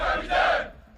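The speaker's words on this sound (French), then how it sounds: "des haut-parleurs diffusent des cris d'une foule en colère" Angry crowd shouting played over loudspeakers during a gendarmerie riot-control training exercise, a dense, loud wash of massed voices that swells in the middle and then thins and fades toward the end.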